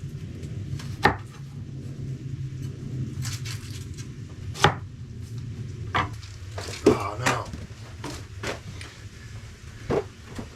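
Knife chopping red onion on a board for fish tacos at a snowy camp with a wood stove tent, a few sharp separate knocks over a steady low background hum.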